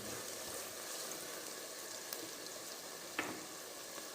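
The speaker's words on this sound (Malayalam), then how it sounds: "ഉള്ളി ഫ്രൈ ചെയ്തെടുക്കുന്നുണ്ട്." Onions frying in oil for a Kerala prawn biryani give off a faint, steady sizzling hiss with a couple of soft clicks, quiet and alone.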